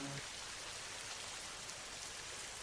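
Steady rain falls during the rainy season, a constant even hiss of drops on surfaces that holds at the same level throughout, with no voices.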